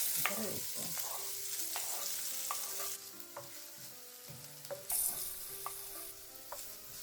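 Onions sauté in a hot pan for sarma, a steady sizzle broken by repeated stirring clicks and scrapes, close and fairly quiet with no talking.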